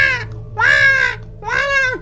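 Crows caw at night in three loud, drawn-out harsh calls close by, with short gaps between them over a low steady hum.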